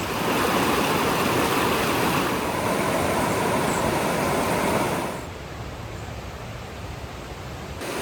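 Rushing river water at Blakeney Rapids, a loud, continuous broadband roar that drops in level partway through as if heard from a slightly different spot, with no talking.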